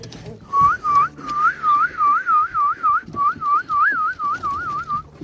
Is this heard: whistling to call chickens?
yes